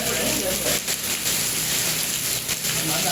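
Heavy rain falls steadily over a village in Jaffna during a cyclone, making a dense, continuous hiss that stays loud and close throughout.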